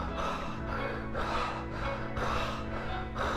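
Strained breathing through a tense throat, shown as an example of poor breathing for cycling: several close, rough breaths in a steady rhythm, each with a catching, constricted quality, with no talk.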